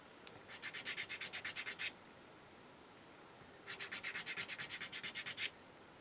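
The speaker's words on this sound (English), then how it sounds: "then you want to polish it with some Novus plastic polish" Two bursts of rapid, rhythmic rubbing strokes as a small resin bead is hand-polished with Novus plastic polish, with a quiet pause between them; close and fairly soft.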